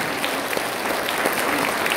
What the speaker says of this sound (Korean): 여러분 한번 큰 박수로 축하해 주시기 바랍니다